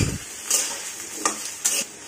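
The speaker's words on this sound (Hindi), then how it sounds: "आलू थोड़ा सा भून जाए फिर इसमें प्याज डालेंगे" Potatoes fry in a pan with a low, continuous sizzle, broken by a few brighter scraping bursts as a utensil stirs them close by, with no speech.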